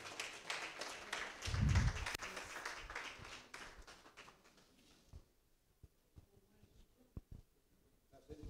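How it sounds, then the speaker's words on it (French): Audience applause at a diploma ceremony for a master class graduating promotion, a burst of clapping from the crowd that fades after a few seconds into scattered claps and room noise. "Sous vos applaudissements, s'il vous plaît"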